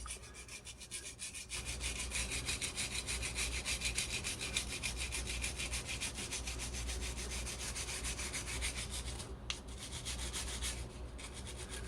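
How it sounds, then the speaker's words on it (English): Brisk rhythmic scrubbing of NES console parts, a close, steady rasping back-and-forth stroke that starts after a short quiet moment and keeps going with brief breaks. "we'll give this a scrub down."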